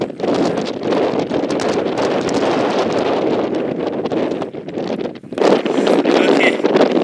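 Strong wind buffets the microphone nonstop on an Alberta mountainside during a sheep hunt, a loud, broad roaring rush with gusty surges and a brief dip near the end.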